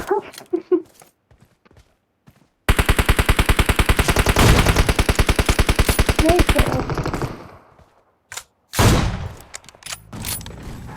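Rapid automatic gunfire from the battle-royale game PUBG Mobile, a loud sustained burst of several seconds with evenly spaced shots, followed by a few isolated shots and short mechanical clicks.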